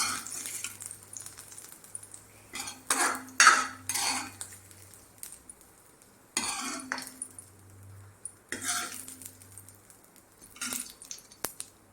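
Fried onion tempering being added to a pot of drumstick-leaf, jackfruit-seed and dal curry, with several bursts of metal spoon clatter and scraping against the pot, separated by short quiet gaps and a low background hum.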